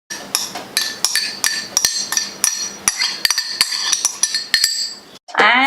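A whisk beats yogurt in a bowl, its metal wires knocking against the side in a quick, uneven run of close, bright clinks and taps that ends on a short scrape.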